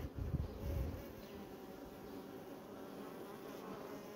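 Inside an opened beehive near the larvae, honeybees buzz continuously in a dense, steady hum, somewhat louder at the start, with no talking.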